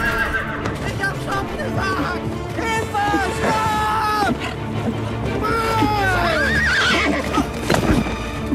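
A horse whinnies repeatedly in a fairytale film scene, loud, high, wavering neighs rising and falling over several seconds, with hoof clip-clop and a busy background of other sounds around it.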